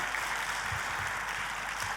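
A church congregation claps steadily during a Passover service in a dense, continuous wash of applause, moderately loud and unbroken throughout.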